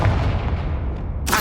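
A Confringo spell explosion in Hogwarts Legacy lands as a deep, booming blast whose low rumble decays over about a second before a sharp burst of crackle hits at the end.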